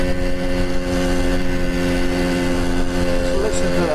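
A 1977 Yamaha DT175 two-stroke motorcycle engine runs steadily, giving a buzzing, even drone with layered harmonics that holds close and loud for the whole stretch.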